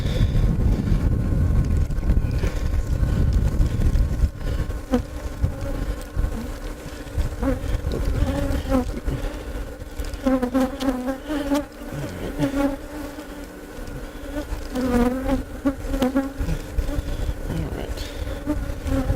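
Loud, continuous buzzing of many bees close up as they are sucked into a bee vacuum, layered over a droning suction hum that rises and falls.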